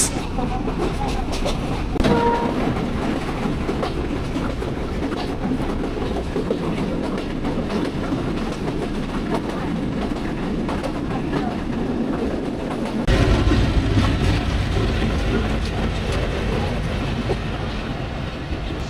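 Mongla commuter train rolling along the rails with a steady loud rumble and clatter throughout, the roar growing heavier toward the end, no voices.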